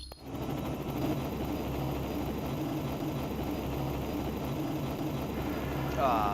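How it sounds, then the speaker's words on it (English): A helicopter approaches in the video game Marvel Ultimate Alliance, its steady low engine and rotor drone filling the whole stretch, broadband and continuous, growing slightly louder near the end. "it sounds like a helicopter's coming this way"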